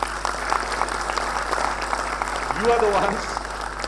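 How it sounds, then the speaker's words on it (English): Applause from a convocation audience for the graduates' families, sustained under a low hum with voices breaking through near the end. "So a big round of applause to the families."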